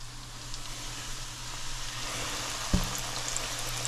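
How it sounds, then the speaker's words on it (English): A snapper throat sizzles meat side down in a hot frying pan with onion, giving a steady, close crackling hiss and one soft knock partway through. "We want that snapper throat fried up nicely."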